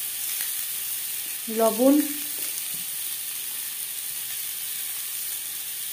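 Diced boiled potatoes frying with salt and turmeric give a steady, soft hiss and sizzle throughout; a brief spoken word cuts in near the middle.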